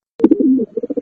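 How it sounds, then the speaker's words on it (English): Dove cooing close and clear, a soft throaty call followed by a short run of rhythmic repeated coos, heard alone. "Dove."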